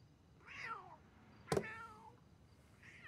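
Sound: cat meowing outside wanting to come in

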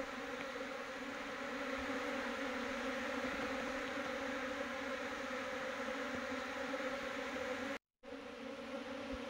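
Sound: honey bees buzzing at hive box

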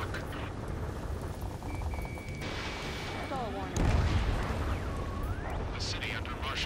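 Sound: gunfire and jet roar in a video game

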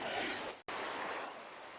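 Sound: waterfall flowing down from the mountains at a forest temple

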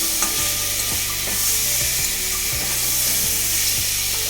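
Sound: fish curry cooking, sizzling in a pan

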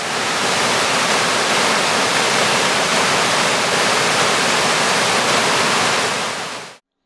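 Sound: Kichany waterfall on the Kovda river route

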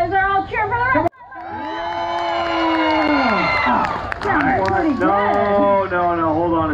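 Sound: crowd cheering at a lumberjack show

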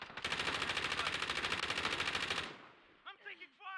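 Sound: gunfire in Call of Duty Warzone video game

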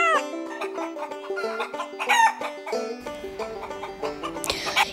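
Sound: chickens

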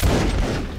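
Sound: musket volley fired by rank in Mount and Musket video game

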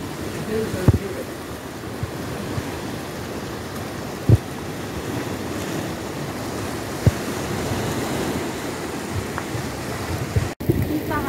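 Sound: rain and sea waves at the Black Sea shore

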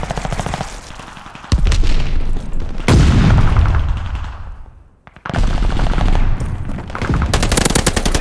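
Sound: gunfire in the video game Call of Duty: Vanguard

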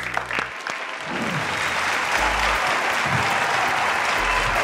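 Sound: audience applause for the contestants

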